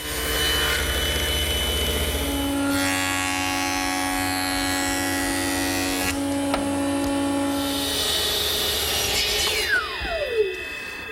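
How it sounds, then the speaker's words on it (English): A jointer smooths a tapered wooden chaise lounge leg, the motor running with a steady whine while the cutterhead shaves the wood in a long pass, then the machine spins down near the end. "I'll smooth this at my jointer."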